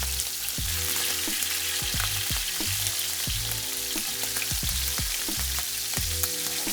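Scallops fry in hot oil in a pan with a loud, continuous sizzle, broken by regular scraping or stirring strokes about twice a second. No one speaks.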